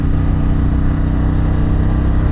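A Harley-Davidson Pan America adventure motorcycle fitted with a Vance exhaust rumbles steadily up close, a dense low engine drone holding constant for the whole stretch with no talk over it.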